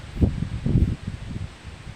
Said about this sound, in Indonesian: Rupanya alhamdulillah ada angin besar